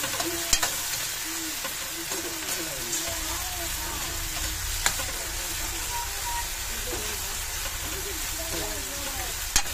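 Corned beef stir-frying with bean sprouts for Filipino lumpia filling, a steady sizzle with occasional utensil clacks against the pan, while people talk over it.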